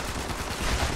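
A single gunshot rings out in Fallout 76, a short dense burst standing loud against steady background game noise, with no voices over it.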